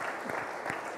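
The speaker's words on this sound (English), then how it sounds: "Can we give Andrew a round of applause?" Corporate event audience giving a brief round of applause, a steady wash of many hands clapping, fairly faint and heard without talk.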